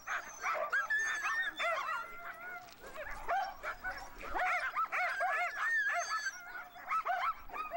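Greenland sled dogs barking, yelping and whimpering frantically at a fish feeding after days without food, many dogs at once in a dense, continuous chorus close by.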